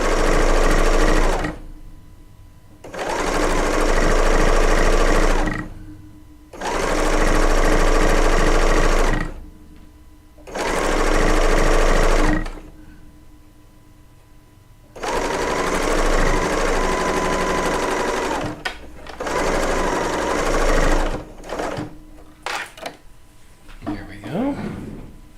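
Serger sewing machine stitching a quilt with different thread weights, running in four loud, steady bursts of a few seconds each separated by short pauses, followed by softer stop-start stitching and handling noise.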